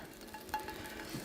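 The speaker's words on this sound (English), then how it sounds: "We're about through frying." Mushrooms fry in butter in a pan, a soft continuous sizzle with a few light stirring scrapes and clinks, fairly quiet and with no speech.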